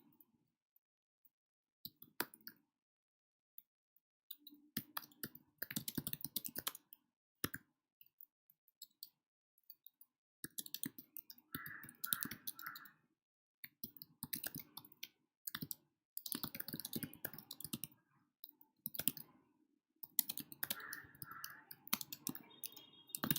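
Fingers typing on a computer keyboard, close and fairly quiet, in irregular bursts of rapid key clicks separated by short pauses, alone without any talk.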